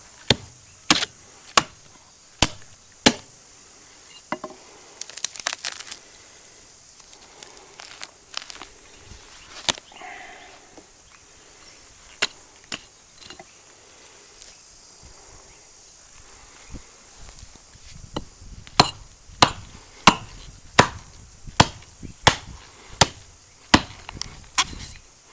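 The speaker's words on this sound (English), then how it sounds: "just got to cut those tree roots out so I can run the poly pipe around" Chopping tree roots out around an old stump in dirt on a corner: sharp, close, repeated chops at an irregular rhythm, clustering into quicker runs near the end, with no talking.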